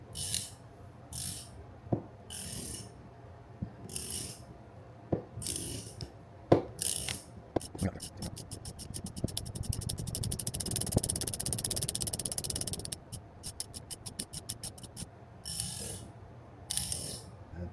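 A ratchet crank being turned by hand, with slow separate clicks at first, then a fast continuous run of ratcheting clicks, then slower clicks again, all close and clear.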